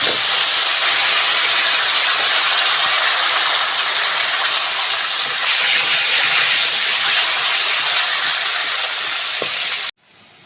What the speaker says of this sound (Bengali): ভালো করে তেলে ভেজে নেব।